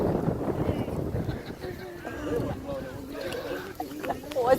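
Wind gusting over a boat at sea during a hurricane, a rough broadband rush buffeting the microphone, with people talking and exclaiming over it.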